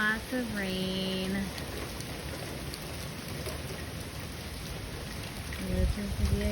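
Heavy rain from Hurricane Elsa pours steadily in a dense, continuous hiss, with a voice speaking briefly near the start and again at the end.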